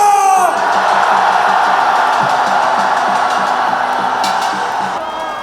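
At a political rally in Gwangju, a large crowd roars with cheers, whoops and shouts, a loud, sustained mass of voices that begins with a sharp yell and slowly eases toward the end.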